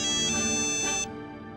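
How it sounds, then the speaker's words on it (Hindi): A phone rings with an electronic ringtone, a steady repeating melodic pattern that is clear and fairly close, with no one talking. "आदित्य भाई का फोन।"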